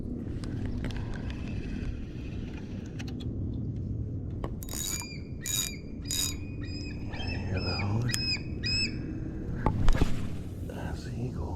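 Eagles calling from a tree at a bay-side park, a series of high, piercing chirping cries in short bursts at moderate distance over faint outdoor ambience and water.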